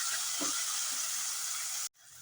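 Green chillies, chopped tomato and garlic frying in oil give a steady, bright sizzle close by, with a faint stir near the start before the sound cuts off abruptly.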